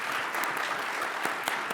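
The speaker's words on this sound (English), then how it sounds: "Let's give a round of applause to Dr. Leal." An audience at a medical conference session claps in brief, steady applause with scattered sharper individual claps.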